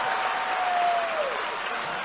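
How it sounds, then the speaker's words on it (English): Basketball crowd at a 2020 Wisconsin vs Minnesota border battle high school game cheers and applauds steadily in a dense, continuous roar throughout, with a whistle-like tone gliding down partway through. "Interesting to see the crowd start to come alive and be a little bit more pro La Crosse Central."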